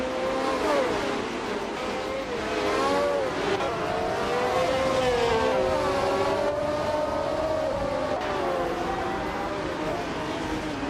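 Several March 751 race cars roar around a track in a racing game, their engines whining and shifting pitch as they accelerate and overtake. The engine noise is loud, continuous and layered, with no talking.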